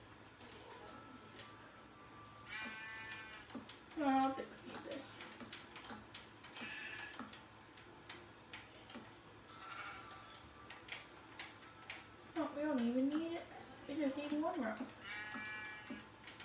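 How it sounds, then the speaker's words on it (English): Minecraft sheep bleat several times in short wavering calls, mixed with game clicks and faint ticking. "There we go. My first sheep."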